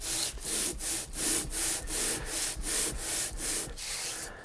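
Rhythmic back-and-forth scraping of a Gilera Nordwest motorcycle cylinder head rubbed on 1200 grit sandpaper, about a dozen even strokes, close and steady with no talk.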